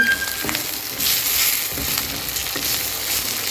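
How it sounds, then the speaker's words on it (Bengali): Vegetables with grated coconut, ginger and green chilli frying in a pan, a steady loud sizzle with occasional soft knocks of stirring, alone without talk. "আর নারকেল কোড়া দিয়ে সবজিটা বসিয়ে দিয়েছি"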